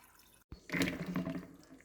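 Cooked macaroni noodles drained and lightly rinsed in a sink, with a brief splash of water followed by a steady close running flow lasting about a second.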